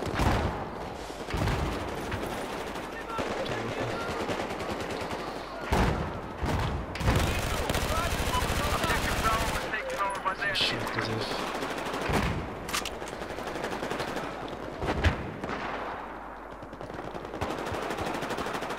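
Saiga 12K automatic shotgun firing in Battlefield 4 on the Metro map, loud repeated blasts in rapid bursts amid ongoing combat noise, with someone talking in Turkish over the action.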